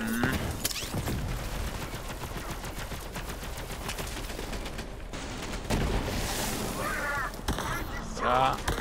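Rapid bursts of Borderlands 3 gunfire crackle repeatedly, with brief pauses between volleys and a voice talking over the shooting.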